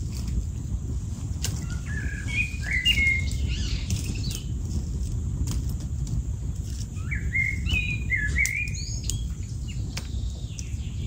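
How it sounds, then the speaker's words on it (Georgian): A blackbird sings near an underground dugout hut, fluting whistled phrases in two bursts over steady low rumbling background noise, moderately distant. "ისეთ საოცრად გალობს ეს შაშვეი"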